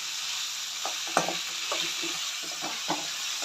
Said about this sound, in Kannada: ಇವಾಗ 2 ಈರುಳ್ಳಿ ಮತ್ತು ಸ್ವಲ್ಪ ಉಪ್ಪು. ಇವಾಗ ಇದು ಚೆನ್ನಾಗಿ ಫ್ರೈ ಆಗಬೇಕು.